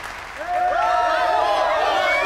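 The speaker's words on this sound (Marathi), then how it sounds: "सर्वांनी जोरदार टाळ्या वाजून या तिघांचं स्वागत करावं" Applause from an audience welcoming three students onto a stage at an event, a steady wash of clapping that swells after a short quieter start, with crowd noise and tonal sounds running underneath.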